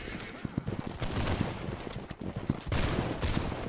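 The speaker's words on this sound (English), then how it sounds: "We take this volley now" Muskets fire in a ragged volley in the Holdfast game, many quick cracks and pops clustered in bursts at mid distance, with battlefield noise and voices mixed underneath.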